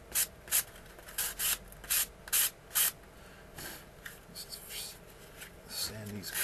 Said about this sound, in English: sand these curves down here